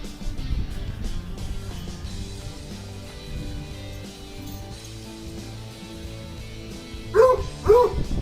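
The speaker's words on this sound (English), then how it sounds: "Those are some of my biggest fans, my Basset Hounds." Two brief, close barks from Basset Hounds in a shop near the end, after a stretch of low rumbling background noise.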